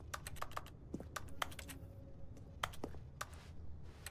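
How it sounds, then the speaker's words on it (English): Computer keyboard keys click in quick, uneven bursts while a video game is being played, crisp close taps with a short pause in the middle, fairly quiet overall and with no talking. "How am I still clicking my keyboard?"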